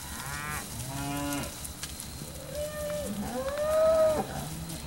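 Cattle at a cattle sale in Alabama give several loud, drawn-out moos one after another, close by, over a steady murmur of background noise.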